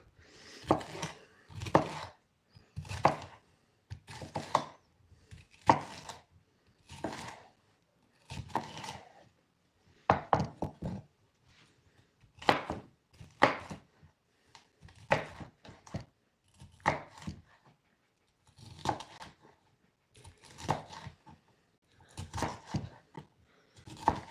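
Knife chopping peppers on a cutting board, in quick bursts of sharp chops separated by short pauses, close and fairly loud throughout.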